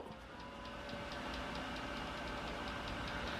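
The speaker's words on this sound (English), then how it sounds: "That CPU fan is loud." A budget music PC's CPU fan roars at a steady loud whir with a constant rattly hum throughout, close up, with no talking.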